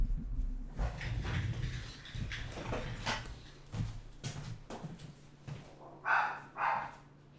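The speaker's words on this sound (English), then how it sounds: "barking at Bongo" A dog barks repeatedly in a domestic setting, with sharper whining yelps near the end, fairly close and moderately loud.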